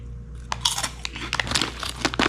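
A crunchy French fry snack from the Philippines is chewed up close, a series of loud, crisp crunches in an uneven rhythm of bites, with no talking.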